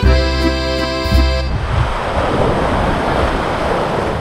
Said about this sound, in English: the waves crashing on the rocks